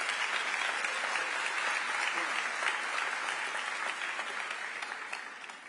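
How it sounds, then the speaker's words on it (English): Steady crowd applause at LA City Hall honouring Paralympians and the para-fencing team during an Olympic flag installation, a dense, even clapping that holds throughout and fades slightly at the close. "Let's give them another round of applause"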